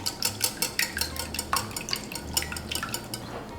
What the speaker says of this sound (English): And then we're gonna whisk in about a cup of heavy cream